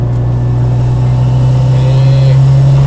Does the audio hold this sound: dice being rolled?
no